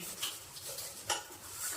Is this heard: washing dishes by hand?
yes